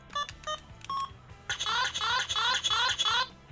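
An electronic GoGo V DX Go Blaster toy plays its V mode crash sound: a few quick bright beeping tones, then a loud run of rapid warbling synthetic bursts in a steady rhythm, close and clear.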